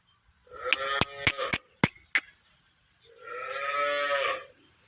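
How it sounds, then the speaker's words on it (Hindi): A large-bodied Dutch Friesian dairy cow on a farm gives a long, close, resonant moo after a series of sharp knocking clacks. "डच फ्रीजन में बड़ी बॉडी की गाय है"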